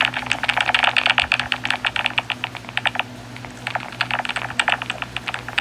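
A clicky computer keyboard clatters in fast, close bursts of crisp keystrokes that pause briefly partway through, with no voices.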